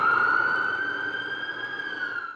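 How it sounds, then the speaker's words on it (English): Police sirens wail steadily through an urban village neighbourhood, a continuous loud tone sustained without a break and with no voices over it. "Sirens wail through the village"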